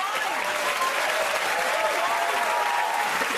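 Studio audience on a comedy Countdown-style panel show breaks into sustained applause, a thick continuous rattle of many hands at close range, loud and level for the whole stretch, with a few voices faintly blended in.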